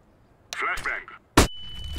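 A flashbang grenade detonates in the CS:GO video game, one sharp, loud burst followed by a steady high ringing tone, preceded by a short burst of game voice audio.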